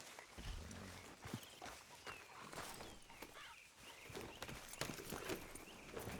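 Horse hooves in the video game Red Dead Redemption 2 clip-clopping at a steady walking pace, faint and somewhat distant, with a soft outdoor ambience underneath.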